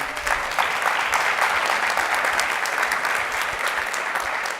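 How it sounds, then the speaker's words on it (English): A lecture audience breaks into steady, full applause after a presentation on video game composition; the dense, continuous clapping fills the room with no voices on top. "Jessica and Erica for inviting me here, and another round of applause for Elliot."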